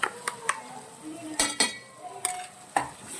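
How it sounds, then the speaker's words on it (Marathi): Masala paste being stirred in hot oil in a pan, with sharp intermittent clinks of a spoon against the vessel at roughly half-second to one-second gaps over a soft background sizzle. "आता हे परत छानपैकी भाजून घ्यायचं आहे तेलामध्ये वाटप"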